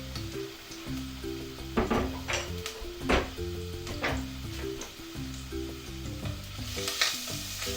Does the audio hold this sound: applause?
no